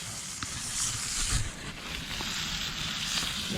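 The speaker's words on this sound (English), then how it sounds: "It's sizzling." Food sizzling in a cast iron pan set on a raised camp grill at a lakeside campsite, a steady close hiss with faint crackles running throughout.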